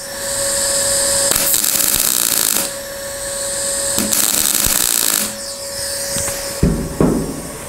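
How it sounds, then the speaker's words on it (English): Tack welding on a sheet metal overlay panel for the rear cabin of an old rusty truck: several loud, steady buzzing bursts of a few seconds each, separated by short pauses and clanks. "So let's clamp it and weld a couple more."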